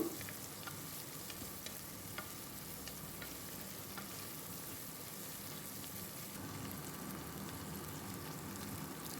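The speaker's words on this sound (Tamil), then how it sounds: "இப்போ நாங்கள் தாளிப்போம்" Onions tempering in a hot pan make a continuous, even frying hiss that stays close and moderately loud throughout, with faint scattered pops and no talking.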